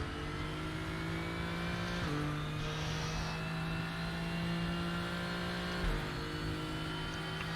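A 2013 ADAC Nissan GTR in the RaceRoom racing game at Dekra Lausitzring, its loud steady engine note dipping under braking around two seconds in, then pulling back up on the throttle, with a second lift near six seconds.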